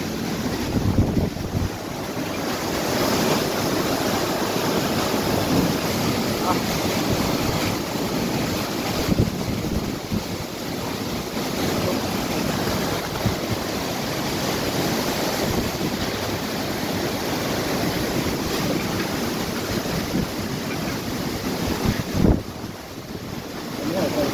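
Strong typhoon wind (Typhoon Opong) roars over crashing sea waves without pause, buffeting the microphone in a loud, dense rush.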